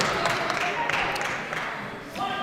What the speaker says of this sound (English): Crowd's really getting into this right now